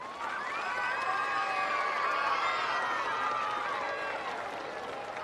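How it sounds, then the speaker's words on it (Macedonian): An audience fills the hall with sustained cheering and clapping for students' performances, with whistles and shouts rising over a steady crowd roar that holds for several seconds before easing slightly. "Ве молам да ги поздравиме со еден аплауз"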